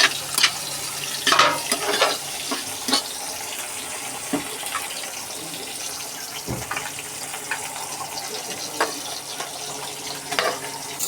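Steady hissing sizzle of leafy greens in a hot pan as the last of their water dries off, with sharp intermittent scrapes and clicks of stirring, close and even, with no talking.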